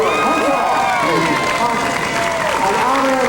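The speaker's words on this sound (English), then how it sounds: "how about a big round of applause?" Crowd applause and cheering for a new Hollywood Walk of Fame star honoree at the 1995 Rodeo Drive parade in Beverly Hills, steady and loud throughout, with a voice talking over it.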